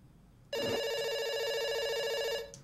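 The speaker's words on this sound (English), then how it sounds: "Yeah, it's ringing. It's still ringing." Single steady ring of a telephone in the Dr. Langeskov game, starting abruptly after a short quiet gap and holding loud and even for about two seconds before stopping, with a faint click at the end.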